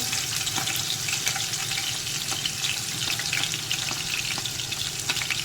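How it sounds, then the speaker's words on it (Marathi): Chopped onions with green chillies and crushed garlic fry over low heat in a pan, giving a dense, even sizzle that runs unbroken and close, with faint crackles and no voices. "कांद्याला व्यवस्थित बारीक आचेवरती आपण फ्राय करून घेणार आहोत।"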